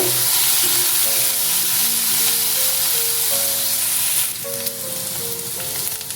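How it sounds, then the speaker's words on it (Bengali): Chopped green chillies frying with potatoes in a pan, a steady loud sizzle throughout with stirring and scraping, while music plays underneath. "এরপর দিয়ে দিচ্ছি কাঁচা লঙ্কা কুচি।"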